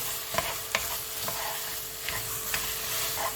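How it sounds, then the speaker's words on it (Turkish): A spoon stirs ezogelin soup with mint in a pot, giving a steady soft scraping and bubbling bed broken by a few brief clicks of utensil on metal. "Karıştırmaya devam ediyoruz arkadaşlar."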